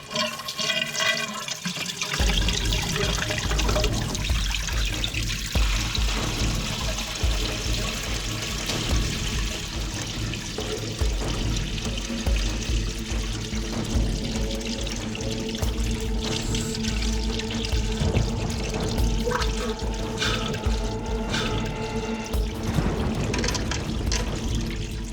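Water gushes steadily into a magic-trick tank after a tap is turned on, a loud, continuous rushing and pouring that fills the whole stretch without pause.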